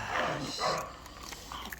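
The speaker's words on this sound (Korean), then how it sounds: "씹는 소리 봐라, 씹는 소리 봐라." A dog chews and crunches food up close in quick, soft, irregular bites, fairly quiet, with faint talk around it.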